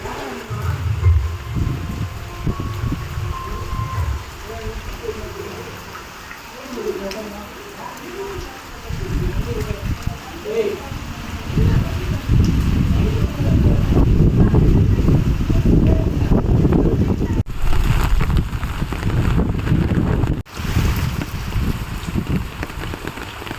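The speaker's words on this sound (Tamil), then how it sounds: "அதாவது மழை வந்து மாதிரி ஒரு வீடியோ எடுத்தேன்." Heavy rain and gusting wind during a cyclone in Pondicherry roar steadily, with dense pattering and wind buffeting the microphone, building louder in the second half and continuing without a break.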